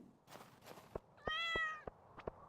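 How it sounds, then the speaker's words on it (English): A cat meowing in the farming video game Stardew Valley: one clear, drawn-out meow in the middle, set among a few soft clicks and taps over quiet background. "Meow. I think Kitty has an item for me?"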